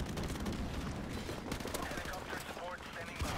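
Airstrike explosions and dense gunfire in a Call of Duty match, a continuous rumbling barrage of blasts and rapid shots heard at moderate level.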